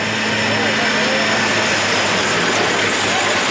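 A stock International semi truck rated at 675 horsepower roars at full load in a tall gear during a nighttime truck pull. The loud, sustained engine drone fills the whole stretch, with an announcer's voice faint beneath it.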